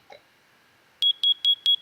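Fire alarm from a Minecraft furniture mod going off in the video game, four sharp evenly spaced electronic beeps after a brief quiet start, loud and close with no talk.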